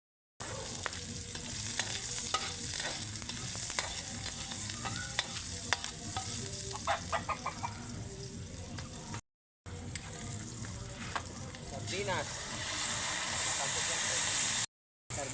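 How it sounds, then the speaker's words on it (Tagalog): Mung bean stew with sardines is stirred in a sizzling pot, a continuous close scraping and bubbling fry with intermittent clinks, broken by two short silent gaps, while a person talks now and then. "Sardinas po yung halo natin sa munggo. Tapos halu-haluin."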